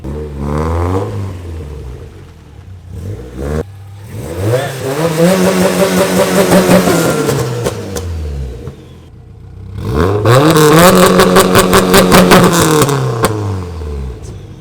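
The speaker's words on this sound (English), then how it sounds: "And just pulling in the Subaru right now." A Subaru engine revs hard several times while pulling in, each loud rising-and-falling vroom close by, with a clattery idle between the bursts and no talking.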